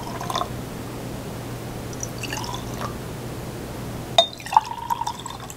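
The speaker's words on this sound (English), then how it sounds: "we're left with a bottle of cabbage juice that we're gonna add to our four containers" Cabbage juice poured from a bottle into glass containers, with a few soft liquid trickles and then sharper glass clinks and drips near the end, close and fairly quiet.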